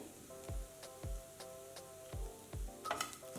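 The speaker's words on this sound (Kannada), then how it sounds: "ಈರುಳ್ಳಿ ಕಲರ್ ಚೇಂಜ್ ಆಗಲಿ ಅಲ್ಲಿವರೆಗೂ ಹುರ್ಕೊಳ್ಳೋಣ" Onions frying in a pan for hotel-style onion sambar, a faint steady sizzle under regular soft stirring taps, with no talk.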